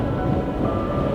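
A Swiss mountain train rolling along a cliffside line toward Murren, heard from inside as a steady, low rumbling ride noise with no voices.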